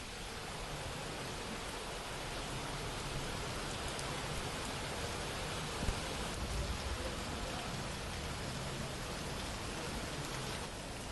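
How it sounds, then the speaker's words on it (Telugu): Heavy rain pours over Hyderabad streets in a dense, unbroken roar that stays steady throughout, with one brief thud partway through. "వాన దంచి కొడుతున్న దృశ్యం మనం చూస్తున్నాము"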